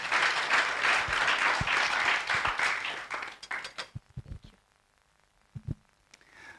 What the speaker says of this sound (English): So kindly let's clap for all the sectors